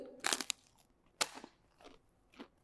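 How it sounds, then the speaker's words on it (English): Crunchy sea biscuits are bitten and chewed close up, a few sharp crackling crunches arriving in irregular bursts separated by brief quiet pauses, with no talking. "let's chew on some of these sea biscuits"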